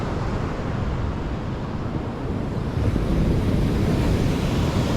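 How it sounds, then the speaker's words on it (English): Waves break continuously on the shore at Araromi Beach in Ilaje, Ondo State, Nigeria, a loud, dense roar of surf mixed with wind buffeting the microphone, with no voices. "So now this is Araromi Beach in Ondo State, Ilaje local government."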